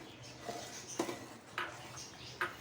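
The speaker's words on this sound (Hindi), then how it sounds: "अब हम इसमें ये शुगर ऐड करेंगे, इसको मिक्स करेंगे।" Sugar stirred into a khoya vermicelli sweet in a pan, a few soft spoon scrapes and light metal taps at spaced intervals, close but quiet.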